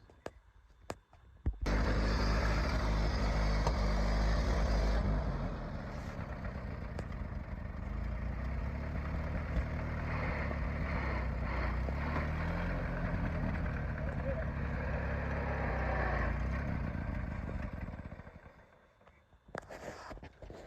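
A Model T Ford engine runs loud and steady for most of the stretch as the car is driven a short way down the road, with a rough low rumble that fades near the end.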